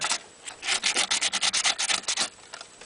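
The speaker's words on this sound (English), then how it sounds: "I'm going to rough up the inside of this, where I intend to put the battery pack." Sanding the inside of an Iron Man helmet to rough it up, a close, quick run of about fifteen rhythmic scratchy strokes with short pauses between them, and no voices.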